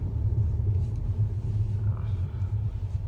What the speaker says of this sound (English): Sorry, we have some traffic issues here. I live by a lake and everyone's coming up with their boats today.